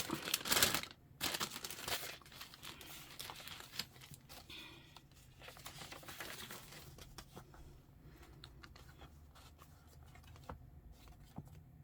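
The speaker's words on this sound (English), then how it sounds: "One of the paper bags" A paper bag from a Christmas journal flip-through crinkles and rustles while handled up close, loudest at first and then settling into softer, intermittent crackles and taps.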